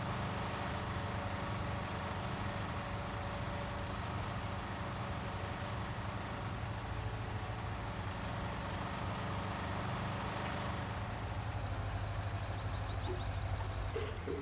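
Steady low tractor engine drone in a harvest field, a continuous rumble held at a constant level for the whole stretch with no talking.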